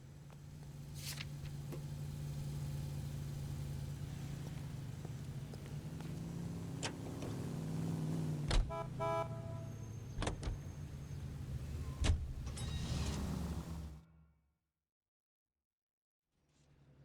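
A car is driven through the streets in the video game L.A. Noire, with a steady engine hum and road noise throughout, a few sharp clicks and knocks, before cutting abruptly to silence near the end.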